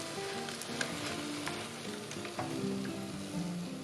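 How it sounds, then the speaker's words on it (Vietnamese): Vietnamese fried dough sticks (quẩy) bubble and sizzle steadily in hot oil, a close, continuous crackling hiss with faint scraping as they are turned. "Mình sẽ chiên hết những cái còn lại."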